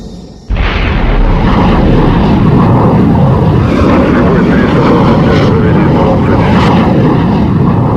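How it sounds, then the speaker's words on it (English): Soviet MiG-19 jet fired off a mobile launch site with a powder booster, a sudden loud blast that swells into a sustained roaring rush of engine and booster noise, close and overwhelming. "The MiG-19 mounted on a mobile launch site was virtually shot into the sky with the help of a powder booster."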